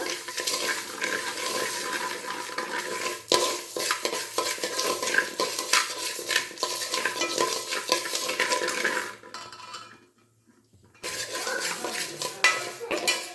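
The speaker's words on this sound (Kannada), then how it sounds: "ಸಾಬುದಾನ ನಾನು ಹುರ್ಕೊತಿದ್ದೇನೆ ತುಪ್ಪದಲ್ಲೇ ಸ್ವಲ್ಪ ಹುರಿಯೋಣ" Sago pearls stirred and roasted in ghee in a pan, a continuous scraping, sizzling rustle with utensil scrapes against the metal, briefly dropping to near silence before the stirring resumes.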